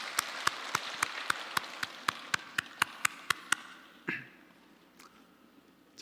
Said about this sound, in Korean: 네, 우리 한번 크게 박수하겠습니다